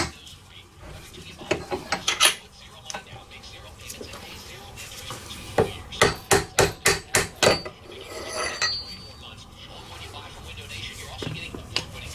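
A hammer tapping out a tightly staked AR15 bolt carrier, sharp metallic knocks first scattered, then a quick run of about six evenly spaced strikes, close and loud, with quiet talk in between.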